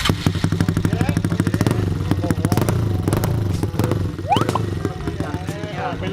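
A motorcycle with a modified aftermarket exhaust pipe runs loud and close, its rapid rhythmic engine pulses revving and settling, with voices talking over it near the end.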